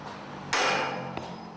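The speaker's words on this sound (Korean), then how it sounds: "지부 연결핀을 해체하는 망치 소리도 경쾌하다" One sharp, loud metallic hammer strike rings out as a tower crane jib connecting pin is knocked out. A fainter second knock follows moments later over a steady outdoor hum.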